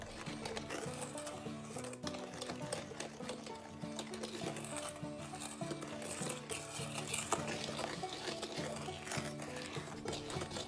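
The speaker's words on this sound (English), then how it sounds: "Sift in the dry ingredients and stir together using a spoon." A spoon stirs brownie batter as sifted dry ingredients are folded in, a steady scraping and rubbing that runs continuously at close range without talk.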